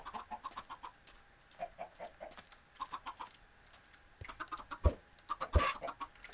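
Chickens in a Minecraft farm give off soft, scattered clucks in a quiet scene, with a couple of sharper pops near the end and no talking.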